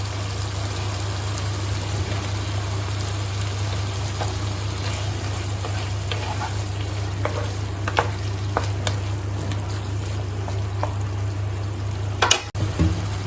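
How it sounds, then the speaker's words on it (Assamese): Fried potatoes and pointed gourd stirred into sizzling tomato and spice masala for a Bengali fish curry, a steady fry hiss with scattered spoon scrapes and a clatter near the end. "এতিয়া মই ইয়াতে ভাজি ৰখা আলু আৰু পটলখিনি দি দিম"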